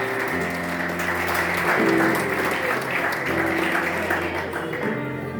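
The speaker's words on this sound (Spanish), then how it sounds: "Dale un aplauso fuerte." Steady, dense applause from a crowd, sustained throughout with a sustained musical tone underneath.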